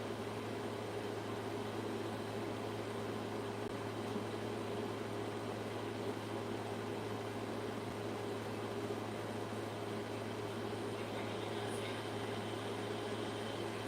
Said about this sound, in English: So you can hear the AC unit in the background.